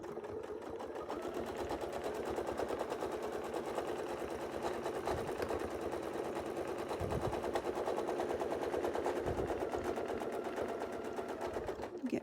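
Steady, rapid rattling of a sewing machine stitching a quilted wreath design, running continuously for the whole stretch at a moderate, even level with a fast mechanical rhythm.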